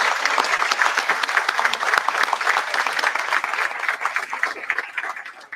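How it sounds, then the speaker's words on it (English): An audience at a Rotary Club of Baton Rouge meeting gives a big, continuous round of applause for newly installed officers and directors, with crisp, close clapping throughout. "Let's give them a big round of applause."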